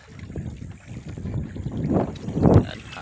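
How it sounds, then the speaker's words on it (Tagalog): Strong wind buffets the microphone in low, rumbling gusts at sea, swelling louder toward the end, with faint water or boat noise mixed in. "Ang lakas ng hangin mga kaidol."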